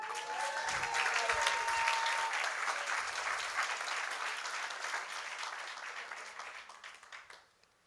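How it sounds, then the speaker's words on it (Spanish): Enthusiastic applause from a large crowd at a Catholic religious talk, loud and sustained, gradually fading out toward the end. "Así es que dense un aplauso."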